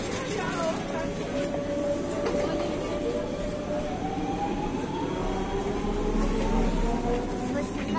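A passenger train with a bicycle carriage rolls along in a continuous low rumble, with faint rising wheel and motor tones running under it the whole time.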